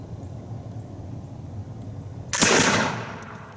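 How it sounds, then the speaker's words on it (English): A 200-year-old flintlock musket with condensation on its barrel fires one sharp, loud shot after a quiet stretch. The blast rings out and fades over about a second. "Put this 200-year-old gun to work."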